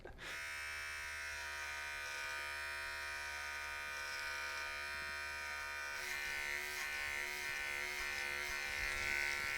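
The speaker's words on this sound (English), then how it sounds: "Let's hope this half guard doesn't fall off while I'm cutting my hair." Electric hair clippers fitted with a half guard buzz steadily and loudly throughout a self-cut buzz haircut, the motor's tone shifting slightly as it runs through the hair, with no talking.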